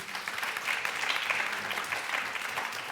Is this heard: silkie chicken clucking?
no